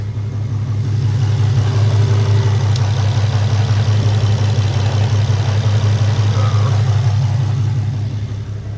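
An Infiniti G35/G37 engine with stock intakes idles steadily: a loud, close, deep even drone that holds without revving through the whole stretch and fades slightly at the end, with no voices.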